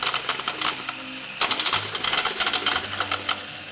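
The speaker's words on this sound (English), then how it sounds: "We have the single deck shuffler here" An automatic single-deck card shuffler running during a Final Girl board game session, making loud, rapid mechanical rattling and card-flicking bursts with a short pause before a second longer burst.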